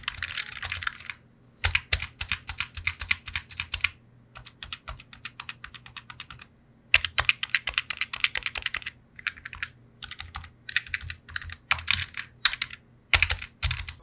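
Typing on a mechanical keyboard with linear switches, rapid bursts of close key clatter separated by short pauses, steady and moderately loud with no talking.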